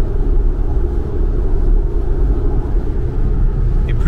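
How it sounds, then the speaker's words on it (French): Steady low rumble of road and engine noise inside a Jeep Compass 4xe cruising at 110 km/h on an expressway in the rain, a continuous, fairly loud drone with no talking. "110 km/h sur la voie rapide avec le micro d'ambiance de la caméra pour bien ressentir le niveau de bruit à"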